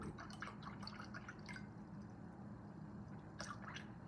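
Aloe vera juice is poured into a cup set on a kitchen scale, giving faint, close dripping and trickling over a steady low background hiss.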